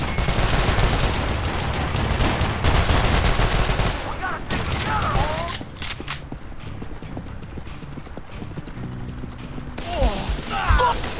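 Gunfire in Call of Juarez The Cartel multiplayer in the L.A. slums, dense loud volleys early that thin into scattered shots and mechanical clatter, with voices speaking in between.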